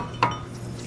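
Cutters snip a zip tie holding a brake caliper and caliper hanger to a coil spring on a Volvo. A single crisp, close metallic click sounds over a low background hum.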